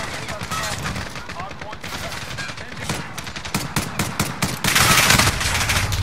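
Bursts of automatic gunfire from a Call of Duty Modern Warfare multiplayer match, rapid volleys close up and overlapping, growing louder toward the end amid other game noise.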